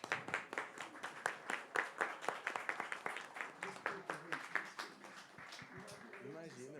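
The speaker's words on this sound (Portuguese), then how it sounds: "Mais uma salva de palmas." Audience applause at an evening talk on cultural territories in a city centre, clapping that is moderately faint and fairly dense, with talk over it as it fades.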